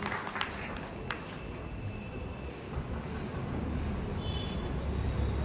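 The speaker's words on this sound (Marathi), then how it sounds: "जोरदार टाळ्या" Loud applause at a Diwali special-issue book launch ceremony in Dhule, a dense, sustained crackle of many hands clapping that grows slightly stronger toward the end.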